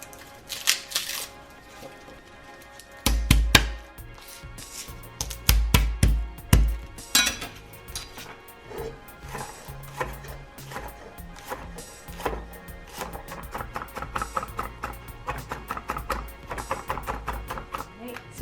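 Knife chopping garlic, peppers, celery, carrots and onions on a cutting board for chicken albondigas, irregular clusters of sharp close taps with pauses between bursts.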